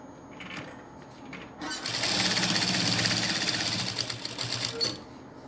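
Sewing machine stitching around a doll pattern, starting with a few short bursts, then running in a fast steady whir for a few seconds before stopping, close and fairly quiet.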